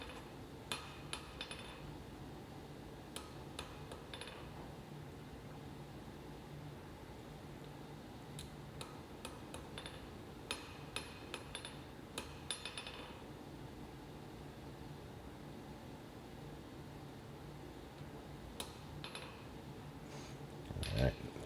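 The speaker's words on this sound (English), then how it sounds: "back to planishing. Light, fast blows." Hammer planishing a hand-forged hidden-tang hunting knife, with light, fast metallic taps in scattered bursts over steady background hum, ending in a louder cluster of strikes.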